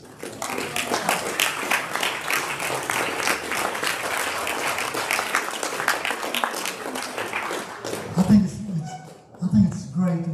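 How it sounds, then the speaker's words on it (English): A large audience applauds past presidents at a Rotary club meeting, dense steady clapping filling about eight seconds before fading, then a voice begins talking over the tail end. "Let's give them applause."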